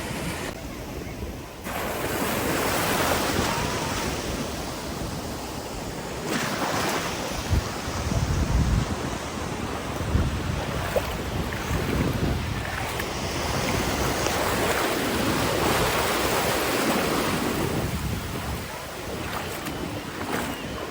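Ocean waves wash onto the beach at Hilton Head on a hot summer day, a steady broad roar of surf mixed with gusty wind buffeting the microphone, and no voices heard.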